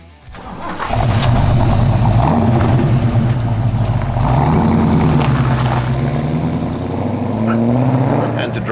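1974 Ford XB GT Falcon four-door with a 351 V8, starting up and then rumbling and revving loudly nearby, with the engine note rising and falling over several seconds.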